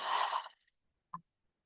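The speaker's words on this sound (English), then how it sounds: "Full breath out, breathing out appreciation." One deep, breathy exhale during a Kundalini yoga breathing exercise, close and soft, fading out after about half a second, followed by a brief faint breath sound in near silence.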